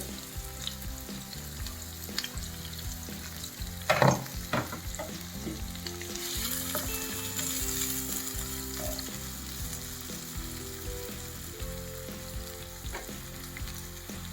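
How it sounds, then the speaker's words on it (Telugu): Sliced onion and curry leaves fry in hot oil for a drumstick and boondi masala curry, a steady crackling sizzle with occasional stirring scrapes and a brief louder clatter partway through. "ఉల్లిపాయ కరివేపాకు వేసుకుందాం ముందు"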